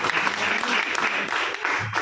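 Crowd at a political gathering applauding a party leader, loud dense clapping close by and sustained, with faint voices mixed in.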